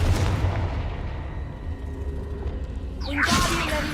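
A Confringo fire spell bursts in Hogwarts Legacy, a loud boom that swells and lingers, then a second whooshing blast near the end over a low rumbling game background.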